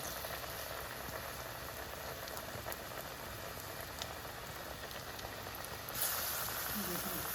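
Chana dal pakoras fry in hot oil, giving a steady, close bubbling hiss that runs throughout, with a slightly brighter surge near the end as more batter goes in.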